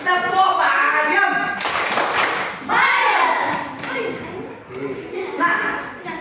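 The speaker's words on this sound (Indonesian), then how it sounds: "Tepuk bayam." A classroom of children performs the "tepuk bayam" clapping routine, sharp rhythmic hand claps in patterned bursts mixed with chanting young voices, fairly loud and close.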